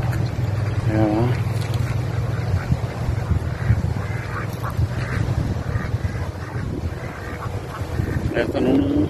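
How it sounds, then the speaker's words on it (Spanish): Ducks quack on water in a few short bursts over steady wind and a low engine drone, with someone talking throughout. "Y ahí vienen los patos atrás."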